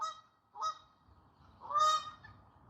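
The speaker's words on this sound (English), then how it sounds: "Oh my god, the geese are coming." Geese honk outdoors at a botanical garden, three loud nasal calls spaced across a couple of seconds over faint background noise.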